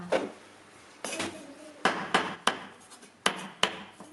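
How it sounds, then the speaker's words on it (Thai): A cleaver chops roast duck on a board, seven or so sharp knocks in an uneven rhythm, close and fairly clear. "สับเป็ดย่างให้เป็นชิ้นพอดีคำนะคะ"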